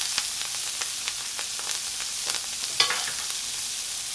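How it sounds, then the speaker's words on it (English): Brussels sprouts sizzle in a hot frying pan, a steady close crackle with scattered small pops and occasional stirring clicks, with no voices. "Nice little sizzle. Get these Brussels sprouts in there."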